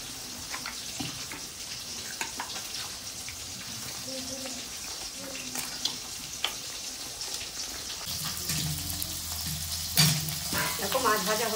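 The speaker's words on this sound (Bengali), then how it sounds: "দেখো মাছ ভাজা হয়ে গেছে" Hilsa fish frying in a pan gives a steady, close sizzle with light scraping and brief clinks. A louder burst of spitting oil and a soft tap-like rush come in near the end.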